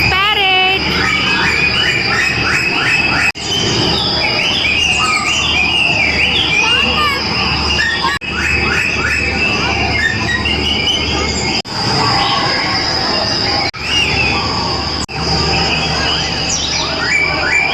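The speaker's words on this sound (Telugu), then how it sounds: "రోబోటిక్ బర్డ్స్ ఇవి." Robotic parrot birds at an exhibition give loud, busy electronic chirps and warbling tweets in repeating bursts, with crowd noise and a metallic screeching tone behind them.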